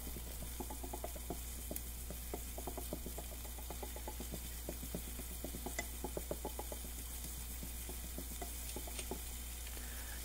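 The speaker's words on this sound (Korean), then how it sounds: "소금, 후추 넣고 볶아주세요" Chopped vegetables with salt and pepper being stir-fried in a pan, a faint continuous sizzle under a low hum, with frequent light clicking and scraping from the utensil moving the food.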